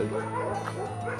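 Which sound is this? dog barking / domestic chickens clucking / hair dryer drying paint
dog barking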